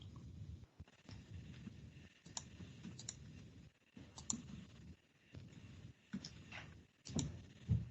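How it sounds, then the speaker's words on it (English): Computer mouse clicks during an online local council committee meeting, faint crisp clicks scattered irregularly over a low murmuring background, some in quick pairs, with no speech. "We're listening to your mouse clicks with bated breath, Nicola."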